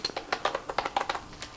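Quick, even keystrokes on a cheap gaming keyboard, about a dozen clacks in under two seconds, close and fairly loud with no voices.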